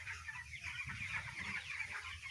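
Broiler chickens on a poultry farm cluck steadily as a dense flock, a continuous mid-level chorus of overlapping calls with no pauses and no voices.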